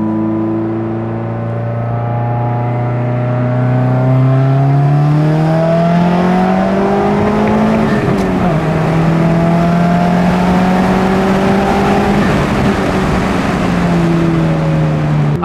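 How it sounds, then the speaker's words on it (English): A car engine revs up through a full-throttle third gear pull at operating temperature, the loud rising harmonic whine climbing steadily with a brief dip near the middle, then pulling again, with no talk over it. "let's do a third gear pull"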